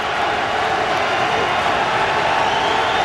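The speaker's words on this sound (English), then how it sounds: "the crowd tries to inspire this defense" A stadium crowd at an NFL game between the Chicago Bears and Arizona Cardinals roars steadily on third down, a dense continuous wash of cheering with no pauses.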